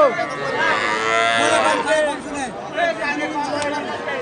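Cattle moo loudly and close by at a village cattle market in Omorpur, their drawn-out calls overlapping with nearby chatter from people.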